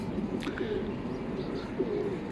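Racing pigeons cooing back at the loft after a 327 km race from Tabaco, Albay, soft repeated coos with a few sharper chirps, close and steady, no talk.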